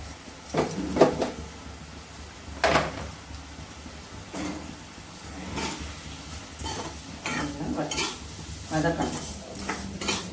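Lemon pickle stirred and sautéed in a pan with salt and chilli powder: repeated scraping and clanking of a spoon against metal, with soft bursts of stirring noise spread across the stretch over a low steady background hum.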